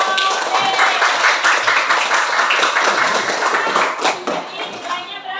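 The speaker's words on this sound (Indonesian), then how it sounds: "Kasih tepuk tangan untuk kelompok B." A classroom of students claps for a student group, steady dense clapping mixed with chatter that thins out toward the end.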